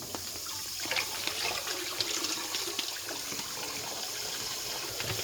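Water running into a barrel to make sugar syrup for feeding bees, a continuous, steady hiss and splash of filling liquid, close and fairly loud with no voices.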